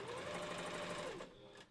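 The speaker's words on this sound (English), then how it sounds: "the sewing machine cannot tie a knot" A sewing machine runs steadily while stitching faux wolf furs together for a costume head, a close, rapid mechanical whir that holds for over a second and then stops.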